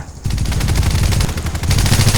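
Rapid, loud bursts of gunfire from the shooting video game Rogue Agent, dense automatic shots rattling continuously after a short quiet opening.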